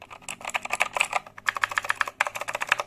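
Fast typing on a clicky Razer BlackWidow V3 mechanical keyboard, close up: a dense run of crisp key clicks in two bursts separated by a brief pause, with no voices.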